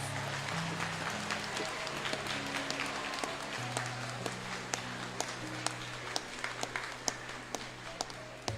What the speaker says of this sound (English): A round of applause for our SRC captains and vice-captains.